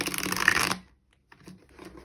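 Playing cards are shuffled during a tarot-style pick-a-card reading: a dense, loud riffling burst that stops abruptly, then a pause and a few softer handling clicks and rustles.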